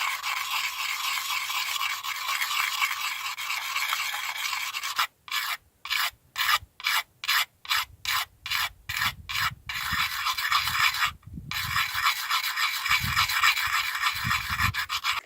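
Cold Steel AD-10 Lite tanto knife being sharpened, continuous close rasping strokes broken by a run of short rhythmic scrapes, then more steady grinding.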